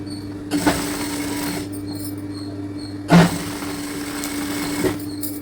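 A sewing machine runs in short bursts while top-stitching a baby girl's frock, with a steady mechanical hum and a sharper thump at each start and stop, close and without speech.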